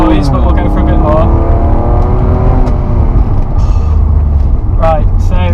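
A 1992 BMW E36 325i's engine hums and revs loudly while driving, with whirring road and cabin noise throughout and brief spoken voices over it.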